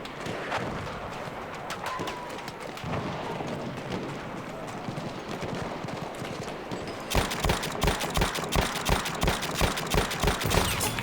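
Sniper and rifle fire crack through a Battlefield 1 battle, scattered shots over a busy, noisy backdrop, then a faster, louder run of repeated reports toward the end.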